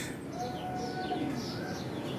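Soft, low pigeon cooing murmurs continuously under a steady hum of background noise, with faint bird chirps higher up.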